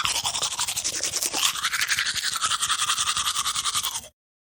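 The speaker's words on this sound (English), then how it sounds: "The girl is brushing her teeth." A girl brushing her teeth, a close, rapid scrubbing bristle sound in a steady back-and-forth rhythm, heard alone for about four seconds before stopping.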